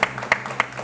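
For guests Ali and Hassan Mamlouk, a few loud, separate claps land roughly a third of a second apart, close and brief.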